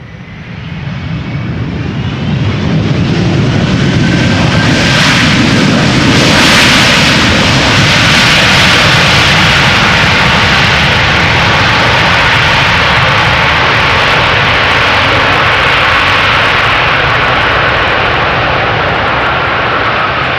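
A jet airliner arrives at Amsterdam Schiphol Airport on a sunny day, with a loud, sustained engine roar that swells and then rumbles on steadily for about twenty seconds.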